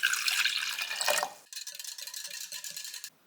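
Warm water poured for yeast dough, a close, bright splashing stream that runs for over a second, then a lighter trickling pour with faint drips before it stops.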